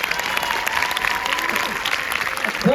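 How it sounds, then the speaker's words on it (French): An audience at a comedy premiere in La Défense applauds a comedian, giving steady, loud, close crowd clapping that continues throughout. "vous demande de faire un tonnerre d'applaudissements pour Jérémy Ferrari"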